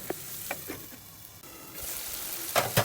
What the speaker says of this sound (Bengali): এবার আলুগুলো দিয়ে ভালো করে কষিয়ে দেব।